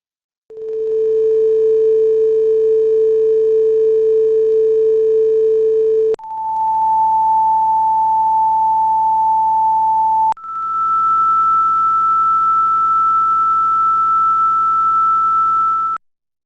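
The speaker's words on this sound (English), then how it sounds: "the kind of sound that a low, medium, or high sound wave makes" Three steady pure sine tones play in turn, first a low tone, then a medium one, then a high one, each held for several seconds with brief breaks between them and no other sound.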